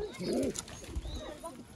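Old line pigeons for sale in Bangalore give a soft low coo, near and brief, with more quiet bird sounds and a voice in the background afterwards.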